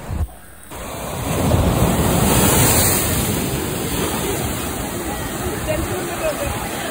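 Sea waves wash over rocks at Vizag beach in Visakhapatnam, a broad continuous surging roar that swells and slowly eases, with faint crowd babble under the surf.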